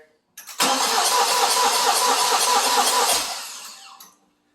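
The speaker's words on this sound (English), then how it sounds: "Crank over." A 2015 Hyundai Sonata with a cylinder 2 misfire cranks over for about three seconds, a loud, close, steady starter churn that cuts off without the engine catching.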